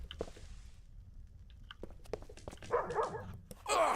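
A dog barks in the Darkenstein 3D video game, a few sharp barks and yelps near the end after quieter clicks and footsteps, with no talking over them.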